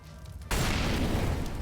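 Molotov cocktail in Counter-Strike: Global Offensive on the Inferno map bursting on landing, a sudden loud whooshing roar of flame that erupts after a quiet moment and keeps burning broadly.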